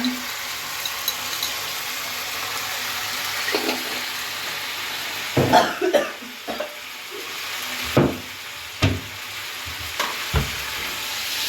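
Whole cumin and coriander seeds crackle as they fry in hot oil for chicken with panch phoron, a steady low sizzle broken by a few sharp stirring clatters and bumps, with no voices.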